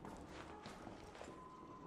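Faint footsteps in the video game Arc Raiders, a soft run of muffled steps at a distance under quiet ambient noise.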